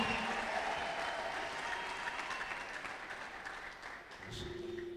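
Church congregation breaking into loud sustained applause with ululation, dense clapping from a large crowd that thins slightly toward the end before a fresh swell of voices and hands.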